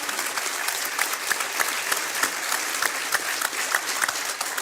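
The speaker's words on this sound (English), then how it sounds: "let's give a round of applause for these three." An audience applauds at a community wellbeing gathering, a dense, steady wash of many hands clapping with sharper individual claps standing out, continuing without a break and with no talking.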